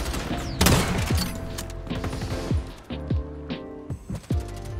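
Gunfire in the shooter game XDefiant, rapid bursts of sharp shots with echoing impacts, close and loud in uneven clusters.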